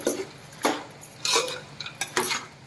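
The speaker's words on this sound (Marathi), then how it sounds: "हे जरा असं आपण हलवून घेऊ" Utensil scraping and clinking against a cooking pan while vegetables are stirred for a spicy Bhogi mixed-vegetable dish, several short bursts of clatter spread across a few seconds, moderately close and without talk.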